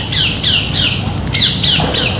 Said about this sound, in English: Lots of parrots around today.